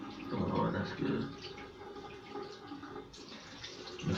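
Cold water runs from a tap while someone splashes and washes their face, a steady close rush with irregular splashing and brief talking mixed in.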